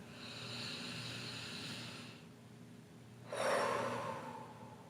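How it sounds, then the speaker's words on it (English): A single deep breath drawn in and let out during a calm relaxation exercise, standing alone after a faint steady background hum, with a strong airy exhale near the end. "This is actually important, so take a deep breath."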